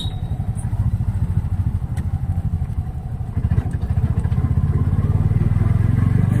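A motorcycle engine rumbles steadily while being ridden, close and fairly loud, its drone growing stronger toward the end with some clatter mixed in.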